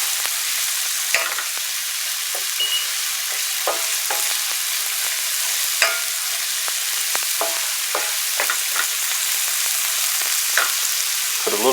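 Vegetable hash sizzling and frying in a hot pan, a constant bright hiss broken by scattered scraping clicks as it is stirred, close and loud with no talking.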